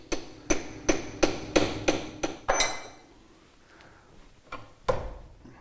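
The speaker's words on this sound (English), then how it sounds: "Knock the lock washer over so that it locks the nut." A hammer knocks a lock washer over the mainshaft nut of an Austin Healey gearbox: seven sharp, evenly spaced metallic strikes close up, a pause, then three more spaced blows.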